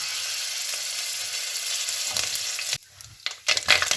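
Ginger garlic paste fries in hot oil with fennel and pepper, giving a loud, steady sizzling hiss that suddenly drops out partway through, then returns in short bursts with stirring clatter.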